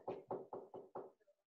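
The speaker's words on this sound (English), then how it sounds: "There's somebody knocking at the door" Five firm knocks land on a door in an even rhythm, each one close and clear, followed by a few softer fading sounds.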